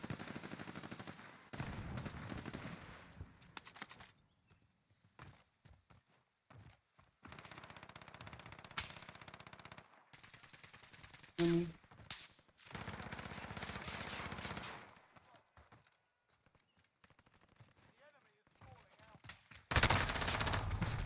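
Call of Duty: Warzone gunfire in Payload mode, repeated bursts of automatic fire including an MP7, in bursts with pauses, some loud and close, mixed with a player talking.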